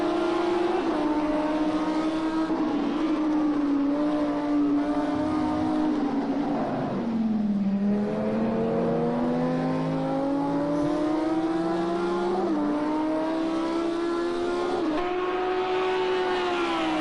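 Lamborghini GT3 race car engine in a sim racing game at Algarve, a loud steady high-revving note that climbs and dips through gear changes and braking, heard alone without talk.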